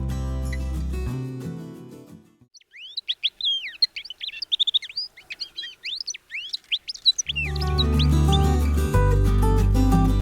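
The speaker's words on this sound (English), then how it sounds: "This bird is found only in Ethiopia." A rare highland bird found only in Ethiopia calls in a rapid series of high, thin chirps and twitters lasting several seconds, clear and close, between stretches of music.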